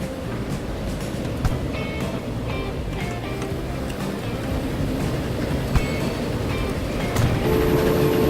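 A train rumbles along continuously in the railway game Transport Fever, with clattering wheel noise, faint tonal hints and no talk over the steady mechanical drone.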